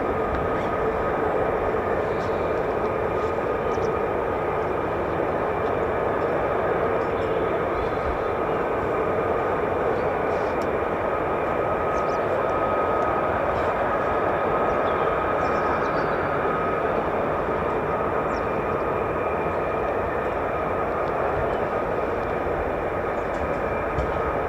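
Military fighter jet engines spool at RAF Lakenheath as a continuous droning whine and rumble in the distance, steady throughout with no pauses.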